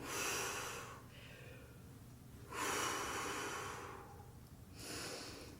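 Slow, deep breathing during a stretching exercise, three long airy breaths with audible inhales and exhales, close and fairly soft, with no talking.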